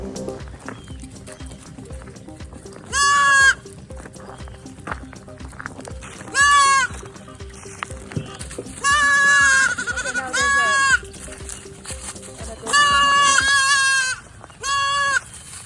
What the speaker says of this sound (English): They sound like little kids, don't they? Yeah. We couldn't just ignore the inhabitants of this island. The goats are all over this place.